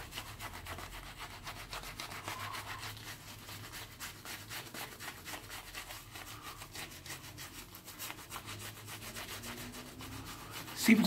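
Synthetic shaving brush working lather across a wet face during a double-edge razor shave, a steady close brushy rubbing and swishing that runs without pause and grows a touch louder at the very end.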